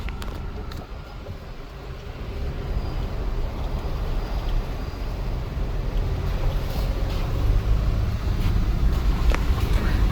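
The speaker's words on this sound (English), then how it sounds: "it's a river right here" A river rushes steadily beside a dead-end mountain road during a storm, a broad continuous wash of flowing water mixed with wind buffeting the microphone, growing slightly louder toward the end, with no voices.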